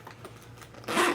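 A zipper on an extra-large duffel bag is pulled in one quick, close rasping run near the end, after a stretch of soft handling noise and rustle.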